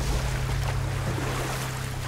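A boat moving across water in the video game God of War, with a steady low rumble and a continuous wash of water and wind, unbroken for the whole stretch and with no talking.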